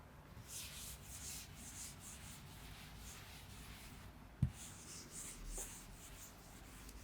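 A teacher wipes a classroom board with repeated brushing strokes in an uneven rhythm, soft and close, broken by one sharp knock partway through.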